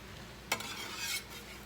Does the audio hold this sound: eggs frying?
yes